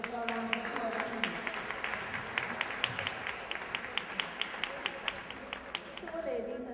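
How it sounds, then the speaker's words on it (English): Audience applause for the Master of Ceremonies at a women's empowerment workshop, a soft bed of clapping settling into a few sharp, rhythmic hand claps, fairly distant, with voices murmuring underneath. "Let's give her a round of applause, please."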